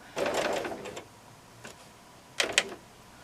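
A sewing machine stitching close to the edge of a quilt, with two short bursts of rapid mechanical whirring and a brief quiet pause between them.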